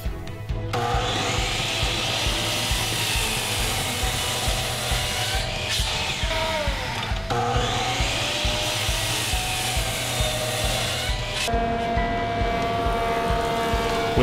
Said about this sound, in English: took them to the miter saw and cut them to rough length